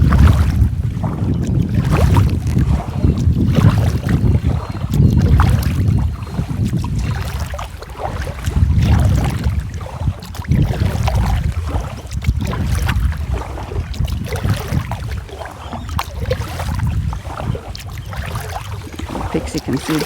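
Paddles stroking through water as a small boat moves along on a breezy day, with steady splashy wash and wind rumble throughout and a voice talking over it.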